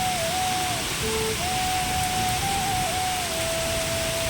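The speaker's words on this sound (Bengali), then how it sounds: "খুব জোরে বৃষ্টিও হচ্ছে, শিলও পড়ছে" Heavy rain with hail pours down during a storm in a steady, dense, loud hiss. It continues without a break from start to finish, with a faint thin tone running through it.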